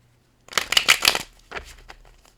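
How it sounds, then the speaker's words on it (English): A deck of cards shuffled during a tarot reading: a few quick riffling bursts close to the microphone, followed by softer scattered flicks and taps in a quiet room. "They want me to shuffle."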